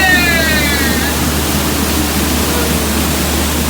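A waterfall on the Walt Disney World Jungle Cruise pours as a loud, steady wash of rushing water, with a brief bright tone sweeping at the start.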